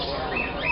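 A pet Congo African grey parrot calls indoors, a brief close burst of chirping and whistling over dense, noisy background sound.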